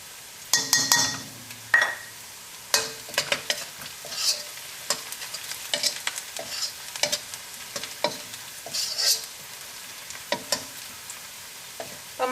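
Onion and turmeric powder fry in hot oil in a pan. A utensil stirs the pan again and again, making a soft sizzle under repeated close scraping and clinking.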